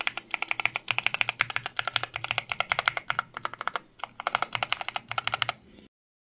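Rapid mechanical key clicks on an EK21 number pad, close and crisp, in quick bursts with a brief pause before stopping abruptly.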